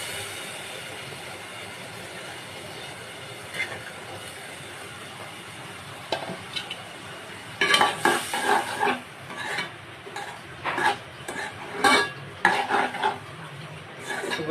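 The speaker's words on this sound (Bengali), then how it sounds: "এগুলা দিয়ে কিছুক্ষণ কষিয়ে তারপরে কচু শাকগুলো দিব।" Boiled dal and grated coconut are stirred in a pan, with faint scraping early on, then a run of louder clinking spoon strokes and scrapes in uneven bursts, close by.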